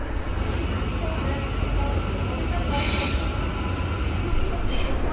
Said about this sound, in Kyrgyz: Азыр М2 деген метро менен Хажы Османга келдик.